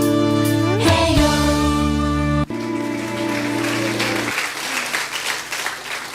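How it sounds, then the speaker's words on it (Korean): A church congregation applauding: a broad wash of clapping that rises under a sustained organ-like chord, continues after the music stops, and thins out toward the end. "우리 박수 한번 더 쳐줘요."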